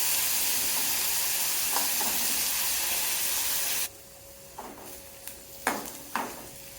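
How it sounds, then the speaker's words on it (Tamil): Chutney ingredients sauté in a pan with a loud, steady sizzle that suddenly cuts off, leaving quiet background and a few sharp clinks of a utensil against the pan. "கலர் மாறி வர்ற வரையும் நம்ம வதக்குவோம்"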